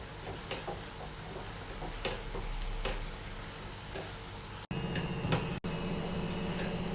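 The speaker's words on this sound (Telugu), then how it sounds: "నెక్స్ట్ మధ్య మధ్యలో ఇలా మిక్స్ చేసుకుంటూ ఫ్రై చేసుకోవాలండి." Tomatoes frying on high flame in a pan for tomato pachadi, a steady soft sizzle broken by scraping stirs and light clicks of the spoon against the pan, close and without talk.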